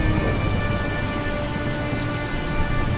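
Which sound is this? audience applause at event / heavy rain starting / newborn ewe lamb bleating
heavy rain starting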